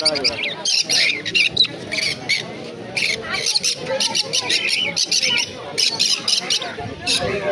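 Budgerigars at a crowded bird market in Naihati, Kolkata, squawk and chirp in busy, overlapping bursts close by, with people talking in the background.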